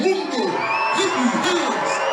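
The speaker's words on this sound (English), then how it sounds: "The crowd is on their feet." Crowd at an MMA fight roaring and cheering from their feet, a steady dense wash of voices with scattered whoops and shouts rising above it throughout.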